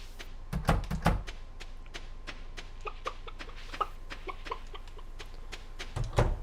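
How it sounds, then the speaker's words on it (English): Chickens on a farm in the game Stardew Valley, many short sharp clucks and pecking taps scattered in an uneven rhythm, close and clear with a few louder thumps, no voices. "chickens are happy"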